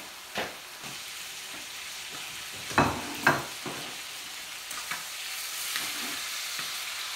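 Walleye fillets fry in butter in a pan, giving a steady close sizzle with a few sharper spatters and clinks of stirring or turning near the middle, and no voices.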